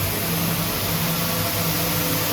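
QXM circular knitting machine for interlock rib fabric, 30-inch, running at a loud, constant, even mechanical whir that fills the room.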